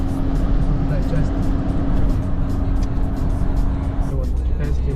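Chinese cars driving back and forth on a road along a long-distance route toward Ussuriysk, a steady broadband traffic rumble with a constant low hum, continuous and fairly loud, with talk present in the background.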